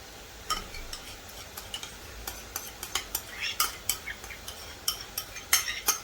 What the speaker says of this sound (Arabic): خلينا ندوب الزبدة ونرجع